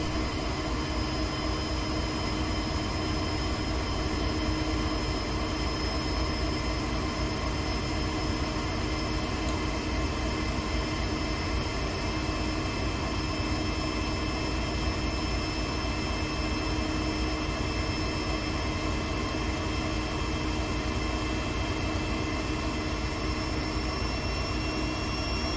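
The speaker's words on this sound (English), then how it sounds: "You can hear the diesel engine revving up." Diesel locomotive engine in Train Sim World 2, a CSX train on Sand Patch, droning steadily and loudly with layered tonal hums throughout, no talk.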